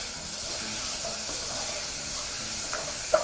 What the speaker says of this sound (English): just gonna stir that meat once more